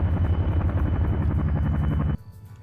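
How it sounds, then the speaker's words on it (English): A helicopter in a video game drones loud and close with steady low rotor thumps, then cuts off abruptly near the end, leaving only a faint background hum. Nobody speaks. "Second chopper started to deploy."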